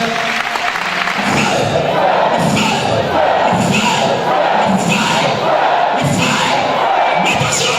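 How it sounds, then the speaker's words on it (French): A worship congregation applauds and cheers loudly for the Lord, a full, close roar of clapping and shouting voices that surges in waves throughout. "Acclame très fort le Seigneur."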